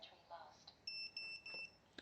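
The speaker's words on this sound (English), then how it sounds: "We can unplug that dumb buzzer because it is annoying" Beeper buzzer on a NewbeeDrone Infinity 255 AIO flight controller sounding a rapid series of about four sharp, high electronic beeps, with brief muffled talk and handling noise before them.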